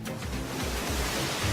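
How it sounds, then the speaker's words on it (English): Ocean waves breaking against a wall: a steady, loud broadband roar of surf and spray with low rumbling, filling the whole moment without voices. "These boys think they're safe with no rock for the waves to break on."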